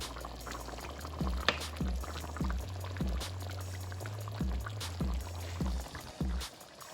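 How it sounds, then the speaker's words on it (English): Jamaican-style oxtail stew bubbles as it cooks down in a pot, a soft continuous simmer with frequent small pops and blips, heard alone and fairly quiet. "And it's still cooking down, guys. It's still bubbling away."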